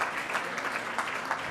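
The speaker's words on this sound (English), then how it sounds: "Give yourselves a round of applause." Guests at a charity auction break into applause, a dense, even burst of clapping from a roomful of people, moderately loud and sustained without any talk over it.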